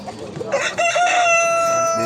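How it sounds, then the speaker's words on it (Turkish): A rooster crows once, loud and close, among chickens at the Edirnekapı poultry market in Istanbul, with a rising, sustained call that follows some brief clucking and market noise. "İki horoz var."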